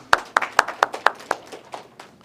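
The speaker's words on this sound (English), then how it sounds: "Let's give him a round of applause" A small audience gives a brief round of applause after a talk, with a few sharp, distinct claps at first that thin out and fade into scattered, quieter claps within about two seconds.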